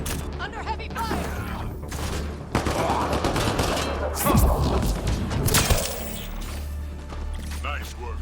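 Heavy gunfire in the sci-fi shooter Mass Effect: Andromeda, with dense overlapping bursts of shots and thuds rolling on for several seconds, loud and close, mixed with game sounds.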